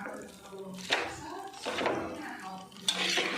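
Gooseberries for pickle are stirred in a metal pot, three bursts of scraping and clattering as a spoon sweeps through them, separated by brief quieter gaps, close and moderately soft.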